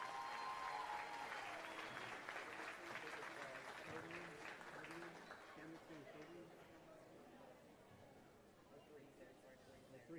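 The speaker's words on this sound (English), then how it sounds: "Give them a round of applause, if you would, as they exit the arena." Applause from the audience at a livestock show cattle judging arena as exhibitors leave, a broad wash of clapping that starts strong and slowly fades, with voices chattering underneath.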